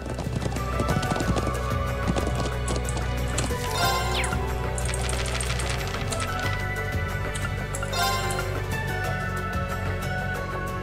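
Steady clip-clop of horse hooves while riding in the video game Trails of Cold Steel, continuous and fairly loud, layered with game music and an occasional horse whinny.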